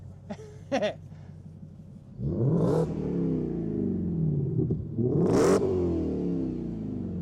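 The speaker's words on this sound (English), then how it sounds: "Check out the exhaust note." A Chevrolet Corvette C8 with a stock exhaust idles with a burbling note, then revs hard twice in loud rising bursts that settle back to a deep rumble.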